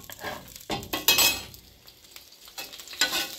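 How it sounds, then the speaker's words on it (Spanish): A garlic clove and onion hit hot salmon fat in a pan, giving short bursts of sizzling with clinks and scrapes of a utensil stirring, close and fairly quiet, no talking. "En esa grasita vamos a freír el trocito de ajo y la cebolla."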